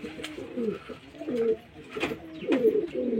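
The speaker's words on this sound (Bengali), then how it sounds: "এগুলো সব আমার বাড়িরই পায়রা," Domestic pigeons, young birds bred from a home flock, cooing in several repeated soft throaty phrases close by, with no talking.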